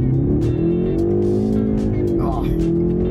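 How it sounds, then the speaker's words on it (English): A 2024 BMW 530i xDrive accelerates hard on a highway, its engine droning loud and steady with a rising tone over wind and road noise, heard from inside the cabin. "Let's do a little highway acceleration."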